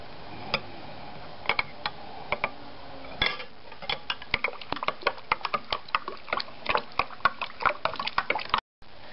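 Spoon stirring a basic flour dough mixture in a bowl, giving irregular clicking scrapes and taps against the bowl, close and fairly quiet, with brief pauses and no talking.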